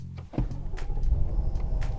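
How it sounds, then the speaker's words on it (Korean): A BMW M850i with a V8 engine fires up, a starter churn followed by a low, rising rumble settling into a steady idle, close and fairly loud, with no talking. "시동 걸자."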